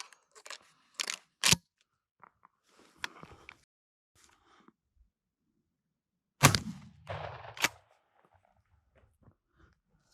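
Shotgun firing Winchester Super X buckshot at a 20-yard target: a few sharp, isolated cracks, then one heavier booming blast with a short rumbling tail near the middle of an otherwise quiet stretch, with no talking.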